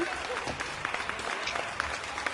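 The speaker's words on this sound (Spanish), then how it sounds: "Reciban con un fuerte aplauso" Studio audience applauding steadily to welcome special guests onto a stage show, with voices and a few cheers over the dense clapping throughout.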